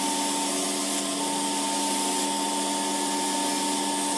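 A professional pedicure drill's dust extraction vacuum runs steadily, a loud close whine with a constant hum, used while filing gel and acrylic nails, with no talking over it.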